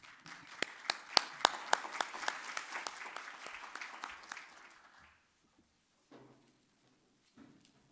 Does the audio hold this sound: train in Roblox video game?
no